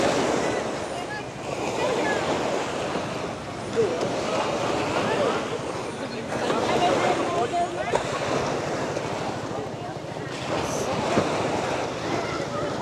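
Strong ocean surf rolling onto a Boracay beach, a steady broadband wash with swells rising and falling every few seconds and some wind buffeting the microphone, heard up close and continuous without talk.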